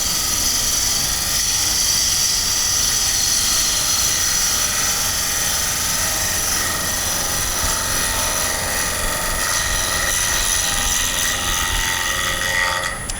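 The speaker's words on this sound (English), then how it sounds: "So I'm just going to do one more cut" Bowl gouge taking a cut across a square-edged wooden bowl spinning on a lathe, a steady loud whirring hiss that holds evenly for the whole stretch with no talking.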